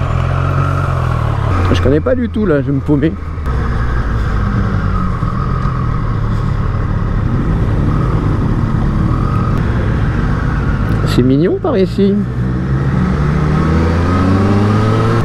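A 2023 Triumph Street Triple 765 RS motorcycle engine runs loud and close, with two rising revs around gear changes over a steady riding drone, while someone talks throughout.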